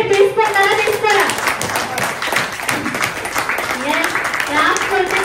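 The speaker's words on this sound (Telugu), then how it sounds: "క్లాప్స్ అక్కడ కొట్టండి, హ్యాపీ వచ్చేస్తుంది అని" An audience claps in a dense, steady patter that runs throughout, with speech and voices mixed in over the clapping.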